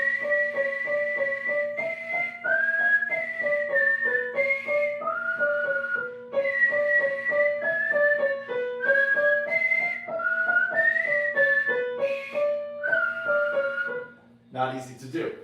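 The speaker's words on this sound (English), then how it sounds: "which I'll just whistle in this case." A person whistles a lively melody, clear and close, with steady sliding notes that hop up and down, ending in a brief burst of noise.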